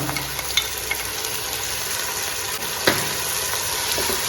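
Ginger-garlic paste fries in a pan for vegetable pulao, a continuous close sizzle with occasional clicks and scrapes of a spoon stirring, and no voices.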